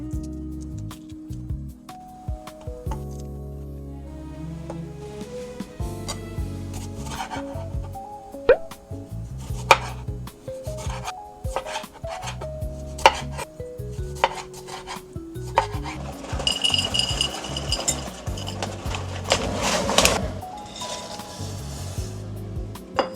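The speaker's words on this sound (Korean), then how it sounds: "오늘 아보카도도 손질을 해볼게요." A whole avocado being cut and prepared in a kitchen: knife taps and scrapes against a board, soft squishing and rubbing of the flesh, and a louder scraping burst near the end, with no voices.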